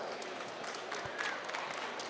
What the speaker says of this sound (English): Let's give Rich and Ed a round of applause.